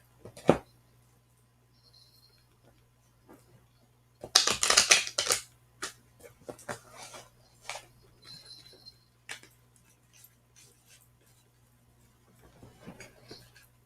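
A freshly opened tarot deck is shuffled by hand in a quiet room, with a few crisp card riffles and snaps clustered in the middle and scattered soft clicks and taps around them.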